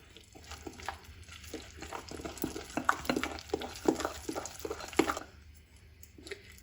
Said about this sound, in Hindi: अभी इसको अच्छी तरह मिक्स कर लेंगे, और ज़रूरत होगी तो पानी ऐड करेंगे।